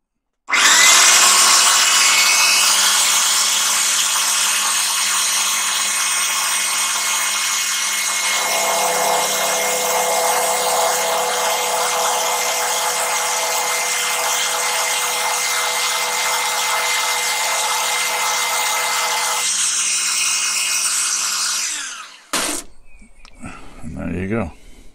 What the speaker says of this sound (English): Switch the old drill on, it's going to be very noisy, folks.